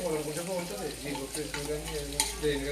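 Onions with ginger garlic paste frying in a pan for chicken dum biryani, a continuous moderate sizzle with stirring throughout, under a humming tonal background.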